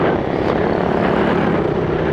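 A KTM Duke 390 motorcycle engine drones steady and loud during a demo ride, a continuous close engine roar with a slight rise as throttle is added.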